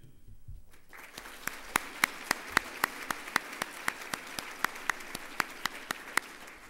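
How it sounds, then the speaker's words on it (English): A crowd claps steadily, starting after a brief moment and continuing as sustained applause with sharp individual claps standing out at a regular pace. "all of these three individuals need one more big round of applause"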